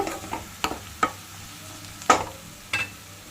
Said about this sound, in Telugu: ఉల్లిపాయలు ఈ మాత్రం కుక్ అయితే చాలు